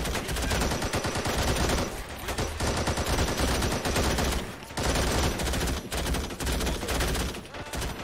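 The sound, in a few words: gunshots in Call to Arms video game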